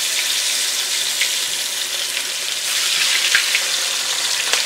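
Steady, loud crackling sizzle of chicken frying in hot oil, with occasional sharper pops and spatters across the whole stretch.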